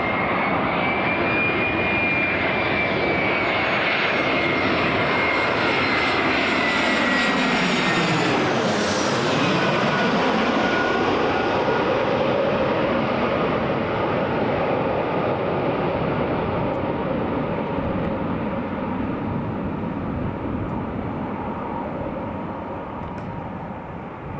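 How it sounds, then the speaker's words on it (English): EasyJet jet airliner landing at Newcastle International Airport: a loud engine roar builds, sweeps past close by with a sharp pitch drop, then fades to a long rumble, with no talk. "There we go, that's EasyJet landed"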